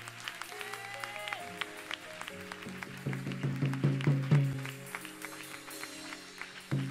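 A church congregation claps in rhythm, the applause building into steady beats before fading, with music playing underneath.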